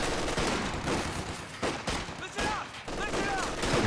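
A machine gun rattles off bursts in Company of Heroes 2, with battle clutter around it and a voice talking underneath.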